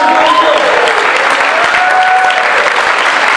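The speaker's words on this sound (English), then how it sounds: "If that's you guys enjoying the show, clap really loud." A live show audience claps loudly and steadily, a dense wash of applause with a few cheers riding on top, close and continuous throughout.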